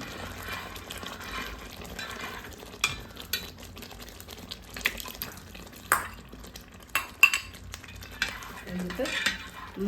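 A spoon stirs cooked sago into melted jaggery in a pot for mango payasam, giving soft scraping and clinking strokes at an uneven pace with a faint low simmer underneath, close and fairly quiet.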